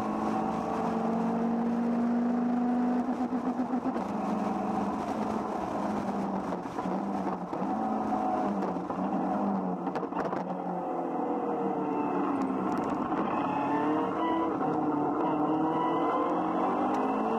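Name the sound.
race car accelerating at race start at Monza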